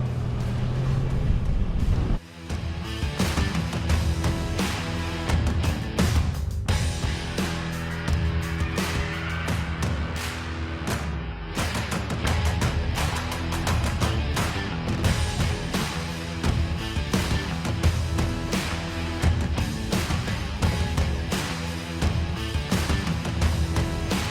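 A chipped 27-year-old Volvo 850 BTCC-style Super Touring car strapped to a dyno, its engine revving hard and steady for the whole run, loud and close, with a brief dip early on.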